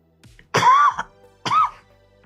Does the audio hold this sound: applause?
no